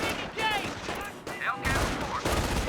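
MG42 machine gun fire in Company of Heroes, with dense bursts of rattling gunfire that break off and resume several times amid battlefield noise, with whistling sounds over the top.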